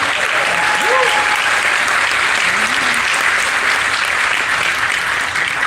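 An audience breaks into sustained, loud applause that holds steady for several seconds, a dense wash of clapping with a few faint whistles or cries rising briefly near the start.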